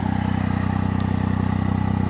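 A 1991 Suzuki Cappuccino EA11R turbo with an aftermarket exhaust idles steadily and close by, giving a low, even, rapidly pulsing drone with no revving and no voices.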